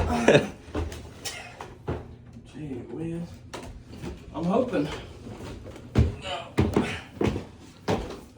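A heavy solid door, not a hollow-core one, is opened and closed several times with thuds, knocks and latch clunks close by, while someone talks between the bumps.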